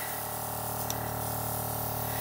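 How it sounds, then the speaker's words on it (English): Airbrush spraying foundation makeup onto paper, a faint, steady hiss running continuously over a low background hum. "Now, spraying it on the paper, it kind of looks uneven."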